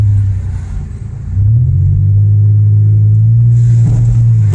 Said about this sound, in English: But that's what happens when you got a misfire.